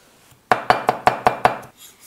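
Ginger is smashed with the flat of a kitchen knife, six sharp, evenly spaced whacks against a cutting board in quick succession, loud and close, followed by quiet.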